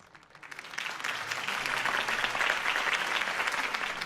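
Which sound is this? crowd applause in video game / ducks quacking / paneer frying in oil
crowd applause in video game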